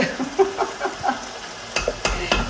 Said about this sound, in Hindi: अभी मैं राइस मिक्स कर रही हूँ ना, तो साथ साथ मैं कलर मिक्स करूँगी